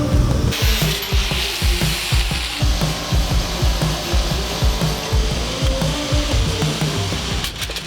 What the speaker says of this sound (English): So drilling through this door